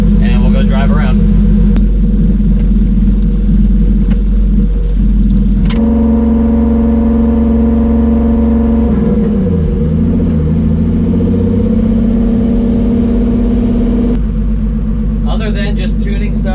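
A turbocharged BMW E30 with an M52 engine drives along, its low engine drone loud and continuous with pitch shifts as it changes speed, while a person talks over it.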